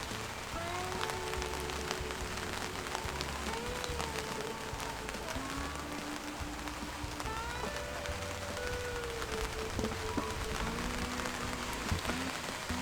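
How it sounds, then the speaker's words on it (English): Steady rain patters across a farm garden in June, a dense continuous hiss of drops on surfaces that holds level for the whole stretch, with faint chirping tones scattered through it. "it wasn't supposed to rain, so gonna have to turn this off"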